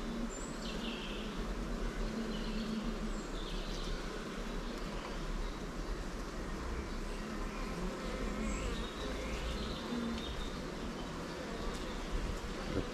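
Honey bees hum steadily inside an open hive during a calm inspection, a continuous dense drone that stays close and even throughout, with no voices over it.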